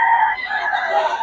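A rooster crows loudly and close, one sustained rasping call filling the moment, with clucking undertones and no talk over it.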